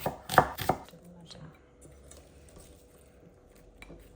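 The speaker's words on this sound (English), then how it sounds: "Just some tomatoes and a couple of red onions. Just going to chop them up." A knife chops tomatoes and red onions on a board for a chicken curry, a few loud close strikes clustered in the first second, then quieter scattered clicks and knocks.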